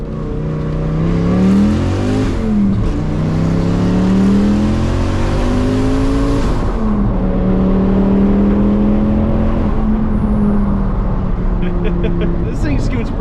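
A turbocharged sedan with noticeable boost lag accelerates hard. The engine note climbs through several gears with drops at each shift and stays loud throughout, with light talk underneath.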